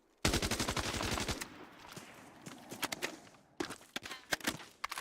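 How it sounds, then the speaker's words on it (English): Gunfire in the shooter Arena Breakout Infinite, a loud rapid automatic burst followed by scattered sharp shots and a second flurry of cracks, with no talk over it. "We're getting sniped."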